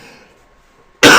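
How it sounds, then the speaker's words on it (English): A single dry cough bursts out loudly and abruptly at the end, right after a quiet, near-silent moment. "Apologies, I've got a dry cough at the moment"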